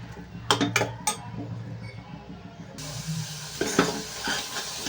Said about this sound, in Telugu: ఈ ఉల్లిపాయ అయితే ఫ్రై అయిపోతుందండి ఇంకా కొంచెం అయితే ఫ్రై అవ్వాలి